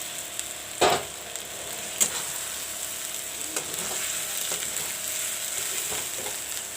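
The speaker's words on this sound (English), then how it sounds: "Now I will put in the eggs." Eggs hit browned masala for an egg curry and fry with a steady, close sizzle, broken by a few sharp clinks and stirring knocks from a utensil.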